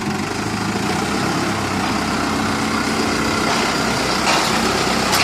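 A tractor engine working under heavy load during a sugar beet harvest, a loud, steady low rumble with a brief rise in intensity near the end.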